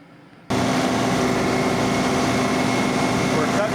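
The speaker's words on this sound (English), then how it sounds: "We're cutting with the brush hog now." A John Deere 2038R tractor cuts grass with a brush hog, a steady loud engine drone and rotary cutter roar that kicks in abruptly after a half-second of quiet and holds constant.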